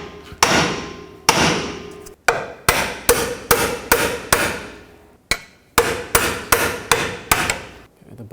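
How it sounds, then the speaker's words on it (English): Repeated hard hammer strikes on a long pry bar drive a front lower strut fork bushing into place on a 2004-2008 Acura TL, loud close metallic blows in a steady series, each ringing briefly, with a short pause midway. "I'm going to take a long pry bar and a hammer, and I'm just going to hammer this bushing into place."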